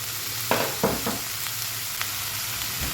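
Beef sautéed with pepper and salt in a pan, giving a continuous even sizzle with a few soft stirring knocks near the start, close and steady, with no talking.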